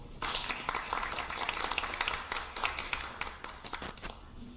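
Steady applause from an audience welcomes a speaker at a capital-markets meeting with a political party's visiting delegation, dense overlapping claps sustained throughout at moderate distance with no talk.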